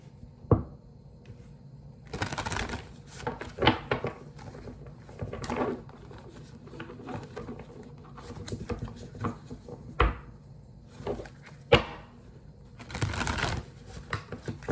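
Repeated bursts of Rider-Waite-Smith tarot cards being shuffled, papery riffles and soft taps coming in clusters with pauses between, close by and fairly quiet.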